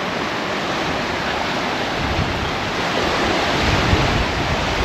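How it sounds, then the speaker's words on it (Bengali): Loud, continuous roar of sea surf at Sea Cliff, New York, with wind buffeting the microphone, waves washing in a steady wall of noise and no voices. "সমুদ্রের গর্জন শুনতে পাচ্ছি।"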